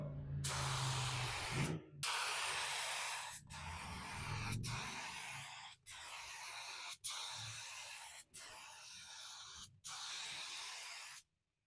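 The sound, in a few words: spray gun applying Rustoleum multi-tone paint coat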